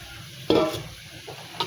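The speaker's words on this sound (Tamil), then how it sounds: "இப்போ தேவையான அளவு தண்ணி ஊற்றிக்கோங்க." Water splashes into a pan of boiling garlic and black pepper kuzhambu, a loud burst of sizzling and stirring that then settles back to a low simmering bubble, with no voices.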